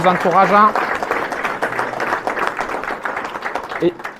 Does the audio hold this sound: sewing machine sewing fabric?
no